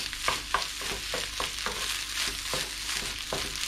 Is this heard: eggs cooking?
yes